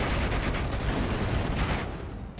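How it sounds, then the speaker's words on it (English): Machine guns on a Sherman Jumbo tank fire in Steel Division: Normandy 44, a dense, steady rattle of gunfire blended with battle noise, loud and continuous for a couple of seconds before easing slightly. "the jumbo is currently using its machine guns to kill the Pack 40"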